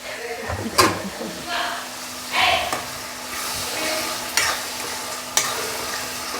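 Tomatoes are stirred into egg pakodi kurma frying in oil, with a steady sizzle under several distinct scraping stir strokes and clanks spread across the clip.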